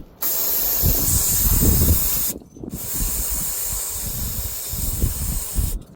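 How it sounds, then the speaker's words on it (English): Brake cleaner sprays onto the drain plug of a 1999–2006 Chevy Silverado or GMC Sierra transfer case in two close, loud hissing bursts separated by a brief pause, with a final short burst at the end. "Just take some brake cleaner and clean our drain plug up."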